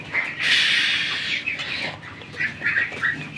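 Chinese ducks leaving their shelter on a farm in the afternoon, with a dense chorus of nearby quacking and clucking calls that swells and falls in short bursts throughout.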